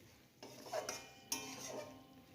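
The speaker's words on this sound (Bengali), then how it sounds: "এবার মশলার সাথে মাছগুলো নেড়ে চেড়ে" Crisp-fried puti fish being stirred with spice masala in a pan, a few soft scraping strokes and a brief clink over a faint sizzle, close and quiet.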